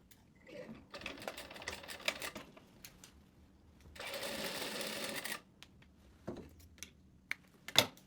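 A sewing machine stitches a vertical seam on a mermaid dress, running in short, rapid mechanical bursts with one longer steady stretch, interspersed with fabric handling and small taps nearby.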